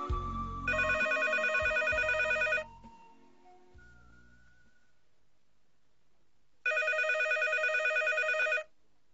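Telephone bell ringing in two loud bursts of about two seconds each, separated by a long quiet gap, with a few faint incidental noises between the rings.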